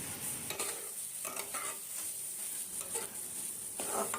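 Long bean and prawn mash frying in a pan for a Bengali bharta, with steady sizzling broken by repeated scraping stir strokes at close range, no voices.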